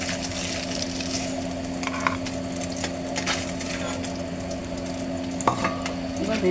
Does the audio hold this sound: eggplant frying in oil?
yes